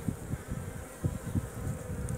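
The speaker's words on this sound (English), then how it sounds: "these bees they get right into the flowers and are coated with heaps of pollen" Bees work among flowering barberry and broom, their close, continuous buzzing wavering in pitch and loudness as individual insects drift near and away, with no voices.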